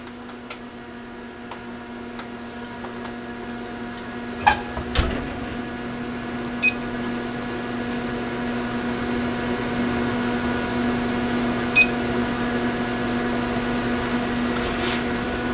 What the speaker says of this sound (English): now I'm gonna put it in the oven at 375 for 4 minutes